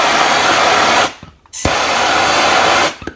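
A heat gun warms a wire coated in soldering flux, roaring loudly and steadily, cutting out for a moment and then blasting again before stopping.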